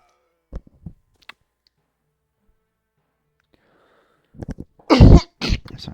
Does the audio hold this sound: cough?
yes